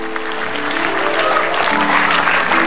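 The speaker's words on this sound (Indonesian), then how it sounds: "tepuk tangan dulu untuk Desta" Studio audience on an Indonesian comedy talk show applauds for a guest, a continuous wash of clapping with a steady music bed playing beneath it.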